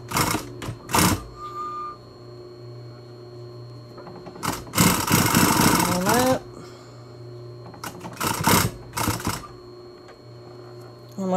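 Sewing machine stitching back and forth over elastic on a fabric face mask, loud close bursts of rapid needle clatter separated by pauses, with handling noises in between.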